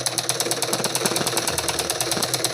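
A sewing machine runs steadily while stitching a blouse hook strip, giving a fast, even mechanical chatter with a rhythmic pulse, close and loud with no talk over it.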